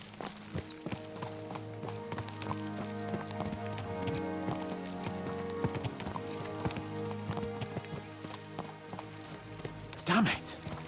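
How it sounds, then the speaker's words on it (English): Horses gallop in the video game Kingdom Come Deliverance 2, a continuous patter of hoofbeats running under game music with talk mixed in, and a short loud burst near the end. "Let's really spur these horses on, eh?"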